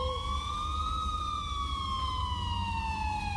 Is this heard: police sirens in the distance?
yes